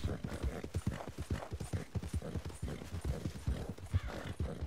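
A horse gallops in the video game Red Dead Online, with rapid, rhythmic hoofbeats pounding close and loud in a steady run throughout.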